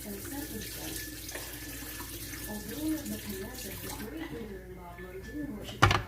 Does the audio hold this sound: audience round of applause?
no